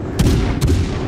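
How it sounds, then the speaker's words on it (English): Warship cannons firing in the naval battle game World of Warships Legends: two heavy booming shots about half a second apart over a loud, rumbling battle din. "if I hit right trigger, I fire one cannon"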